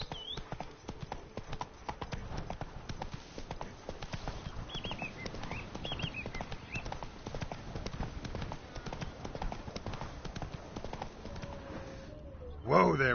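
Roach the horse trots along in the Witcher 3 Blood and Wine game with steady, rhythmic clip-clopping hooves and faint bird calls around, ending in a brief louder burst.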